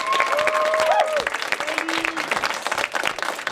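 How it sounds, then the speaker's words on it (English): A school film festival audience claps steadily in a broad, dense wash for Mr. Armstrong. The applause stays loud throughout, with some crowd murmur and a few whistle-like tones near the start. "I think Mr. Armstrong deserves a big round of applause"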